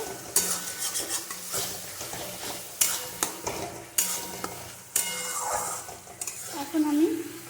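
Thick masala for a Bengali blue crab curry is stirred and fried in a hot pan, giving a steady sizzle broken by repeated scraping and clinks of a spoon against metal, close and fairly loud.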